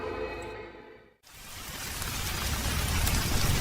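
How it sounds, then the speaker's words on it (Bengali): Heavy rain for a stormy night in a village ghost story: after a brief silence, a loud, dense downpour rushes in and builds steadily, with no voices. "মুষলধারে বৃষ্টি পড়ছে।"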